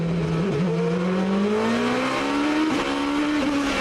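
A GP2 race car engine screams at high revs at Monaco in 2006, its pitch climbing steadily with brief dips as gears change, loud and continuous.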